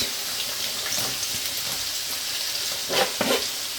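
Steady sizzling of onions frying in a pan with cumin and coriander, with a couple of louder bursts of stirring near the end; no voices.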